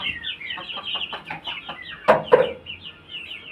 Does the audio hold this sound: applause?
no